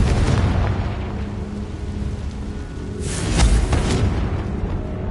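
A Confringo blasting spell goes off inside a tomb in Hogwarts Legacy, a loud booming explosion with a deep rumble and a swelling burst midway, over a steady noisy background.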